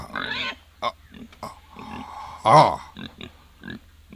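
A pig grunts repeatedly in short, rough bursts with uneven gaps, close and fairly loud, including one longer squealing grunt midway.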